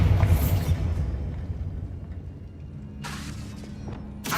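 A Bombarda blasting spell from Hogwarts Legacy bursts with a loud shattering crash at the start, its low rumble fading over several seconds before two brief sharp bursts return near the end.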